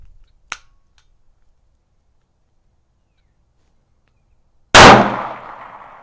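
A High Standard .22 Magnum derringer, after a light strike: a faint click comes early, then one loud, close gunshot cracks out and rings down in a fading echo.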